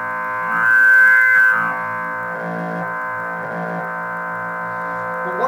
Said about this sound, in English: the reverb tank, because it's got speakers in it, you can use it as a big feedback machine